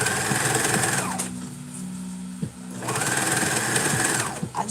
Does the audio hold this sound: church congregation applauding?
no